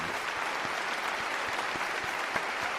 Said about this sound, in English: give a round of applause for All My Friends